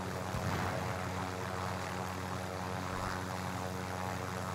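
Steady, droning rotor and engine hum of a helicopter in a shooter video game, continuous and fairly faint with a low rumble underneath and no talking.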